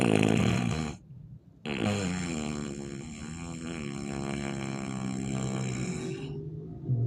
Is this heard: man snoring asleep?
yes